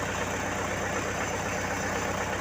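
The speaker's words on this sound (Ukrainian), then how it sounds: "Трактор заведений, прогрітий" A warmed-up diesel tractor engine idles steadily nearby, a constant low rumble with rhythmic knocking pulses and no talking.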